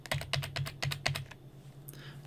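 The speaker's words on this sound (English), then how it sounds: "So holding Control, I'm gonna hit V 5 times." Keys on a computer keyboard are tapped five times in a steady rhythm while Control is held for Ctrl+V paste in Revit software. The taps are close and crisp, followed by a faint click.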